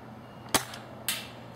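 Two sharp spring-powered shots from an A&K SVD II Dragunov airsoft sniper rifle, crisp snapping pops about half a second apart, close and loud with nothing else around them.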